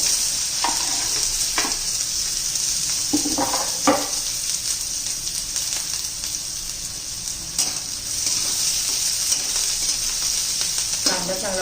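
Onion and garlic sizzle in a pan for sukat chutney, a constant close hiss broken by several sharp scraping stirs.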